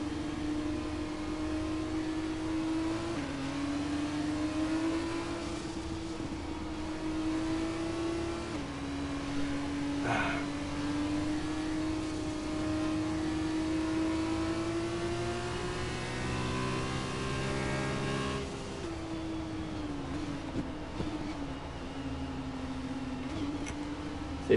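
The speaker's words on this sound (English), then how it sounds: "Safety car still staying out" A Formula 2 safety car in a racing video game at the Italy round gives a steady mid-pitched engine drone, its pitch stepping up and down through shifts, continuous and fairly close with no voices.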